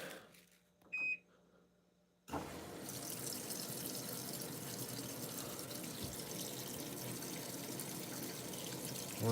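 Water rushing steadily into a Black & Decker BPWM09W washing machine after a couple of short control beeps, a continuous broadband fill sound lasting several seconds with no talking.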